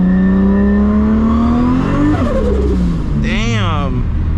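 A 1000-plus horsepower Toyota Supra MK4 revs hard and loud, engine note climbing then dropping as the tires break loose and spin, with a rising whine near the end; someone talks over it.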